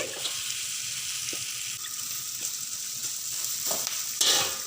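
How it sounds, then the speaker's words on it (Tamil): Fried rice ingredients are stirred together in hot oil, a steady close sizzle broken by several scraping spatula strokes and a louder clatter near the end. "எல்லாத்தையும் ஒன்றா கிளறி விடுறாரு"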